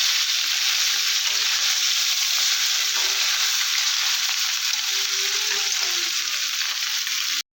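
Morola fish fry in hot oil in a pan, a steady, close bright sizzle and crackle that holds evenly throughout with no one speaking.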